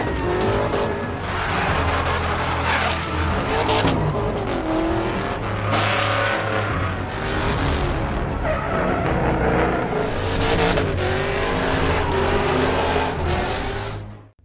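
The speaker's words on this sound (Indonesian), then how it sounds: "Matnok yang menggunakan Nissan 370Z langsung menggaspol mobil keren itu" Nissan 370Z revving and drifting in a film street-racing scene, engine roaring loudly and continuously with tire screeches over a steady music bed, no talk.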